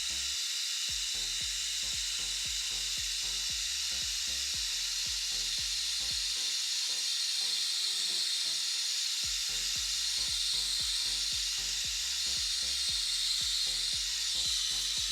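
Continuous broad hiss of steam rising above a heat pipe, loud and steady, with a rapid train of low clicks or ticks running underneath that briefly drops out midway.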